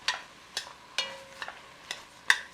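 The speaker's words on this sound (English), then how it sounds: "we're just going to kind of chop that meat up with our spoon and let it brown" Ground meat browning in a pan for a cabbage casserole, broken up with a spoon: a soft sizzle under irregular sharp scraping clicks of the spoon against the pan, about six strokes in quick succession, close by.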